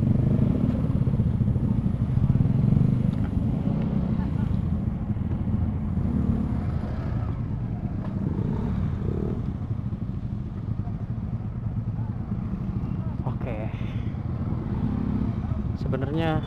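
A Kawasaki ZX-25R motorcycle's engine rumbles steadily and low on the move, with wind and road noise around it and a voice heard faintly at times.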